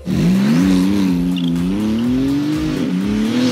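Turbocharged six-cylinder engine of a Porsche 911 revving hard and steadily, its pitch climbing and dipping slightly, loud and close, with a faint tire-squeal edge and no talk.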